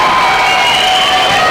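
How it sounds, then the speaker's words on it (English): A high school boys' basketball crowd at a Seton Catholic game roars and cheers after a game-tying three-pointer, a dense, sustained wall of voices filling the gym without a break. "you heard it from the NAC crowd"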